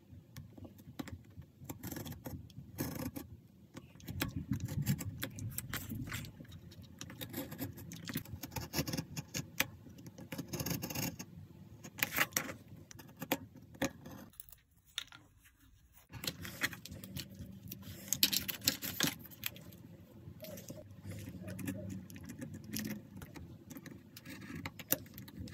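Recycled cardboard being cut in half for a handmade Valentine's card, heard as close, irregular scraping and snipping bursts with crisp clicks, a short pause midway, then more cutting and handling noise; no speech.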